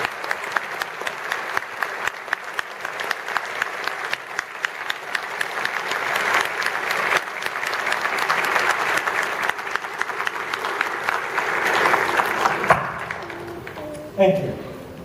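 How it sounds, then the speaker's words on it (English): A graduation ceremony crowd applauds the staff with sustained, dense clapping that swells in the middle and then tapers off, with a few louder claps and stray sounds near the end. "let's give them a round of applause"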